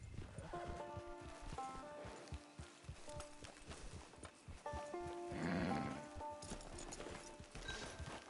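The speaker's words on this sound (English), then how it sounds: "Get your horse." A horse at a range camp lets out a loud whinny over the clip-clop of hooves, with scattered thuds and movement and no talking.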